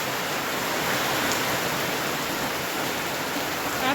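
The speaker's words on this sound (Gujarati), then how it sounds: "પવન ને વરસાદ ને બધું હારે છે" Wind and rain outdoors produce a steady, dense broadband rush and hiss, constant and fairly loud throughout with no distinct gusts or drops standing out.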